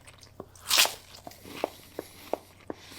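A person imitates chewing and crunching toast with their voice: one loud crunchy burst, then a series of regular sharp clicks and smacks at a steady chewing rhythm.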